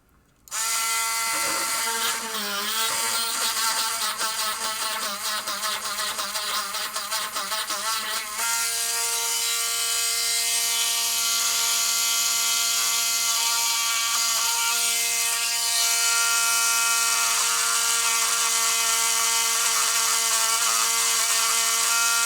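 A Drill Master rotary tool from Harbor Freight, a Dremel-style knockoff, whirs loudly and continuously. Its high-pitched buzzing motor starts with a rattling, ratcheting texture and then settles into a smooth, steady whine that runs the whole time.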